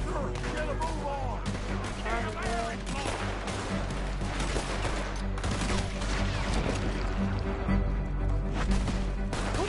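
Gunfire from Red Dead Redemption 2 rings out in a chaotic shootout, repeated shots and volleys layered over music, shouting and in-game voices throughout.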